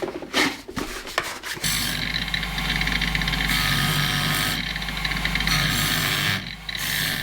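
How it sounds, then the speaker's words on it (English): A brush scrubs scale off the fuel pump housing of a 1990 Jeep XJ 4.0, starting with a few sharp strokes and then a steady, close, rough rasping rub that runs nearly unbroken to the end, with no talking. "so I'm brushing off the scale"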